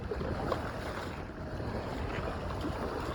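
A sailboat cruising the Gulf of Thailand with steady wind rush and soft wave wash against the hull, a continuous moderate outdoor roar with no talk.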